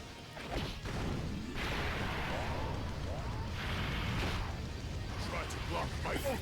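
Attack effects from Nova's active skill in Dokkan Battle: a continuous barrage of crashing impacts, blasts and whooshes, loud and layered, with a voice talking over it.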